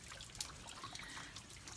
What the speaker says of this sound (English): Looks like it's just barely dripping water now,